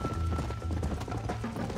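Horse hooves galloping in the Red Dead Redemption video game, a quick rhythmic clip-clop of hoofbeats, close and moderately loud with no talking.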